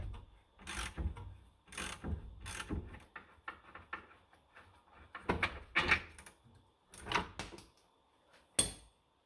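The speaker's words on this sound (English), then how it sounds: "I'm going to be using a 21 millimeter on the nut side" Wrench loosening the lower control link bolt on a Mercedes, a 21 mm wrench on the nut side, giving a series of close ratcheting clicks and metallic mechanical bursts with short pauses between them.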